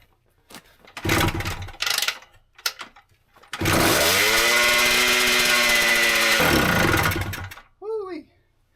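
An Italian two-stroke Harley motorcycle engine sputters through a few short false starts, then bursts into a loud, buzzy run for several seconds before cutting out, with voices around it.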